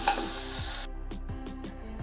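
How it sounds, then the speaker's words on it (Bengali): Steady sizzling of pumpkin slices frying in a pan, with a series of soft scraping stirs and light clinks repeating at a regular pace. "এইভাবে আমি বাকি কুমড়োগুলো ভেজে আপনাদের দেখাচ্ছি।"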